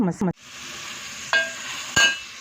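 Coriander and cumin seeds dry-roast in a cooking pan, making a steady close hiss with a couple of louder scraping stirs after a brief opening voice.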